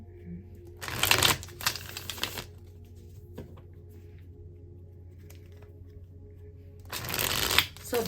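Tarot cards riffled and shuffled close by, two crisp bursts of flapping paper separated by a quiet pause, with faint handling noise between.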